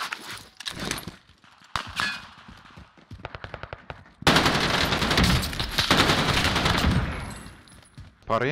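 Call of Duty Warzone gunfire, rapid automatic bursts and single shots firing in quick succession, loud and close, with a louder sustained barrage midway and a voice talking over parts.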